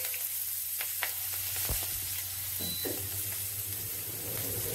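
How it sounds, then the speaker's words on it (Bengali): Nigella seeds and green chillies sizzling in hot oil with turmeric and salt, a steady close frying hiss with a few small pops and crackles, no talking. "এবার এর মধ্যে দেখুন কালো জিরে আর কাঁচা লঙ্কা করে দিয়ে দিলাম"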